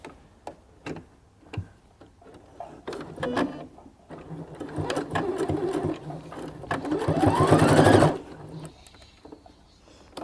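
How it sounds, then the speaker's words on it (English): A sewing machine stitching along a fabric edge, its rapid mechanical ticking building into a steady, louder whir before stopping abruptly, close by with no talk. "So I will just finish the sewing."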